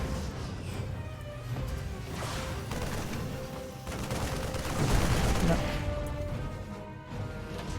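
Terran Marines firing in StarCraft 2, a steady rattle of rapid gunfire and crashing impacts running under excited commentary from a caster throughout.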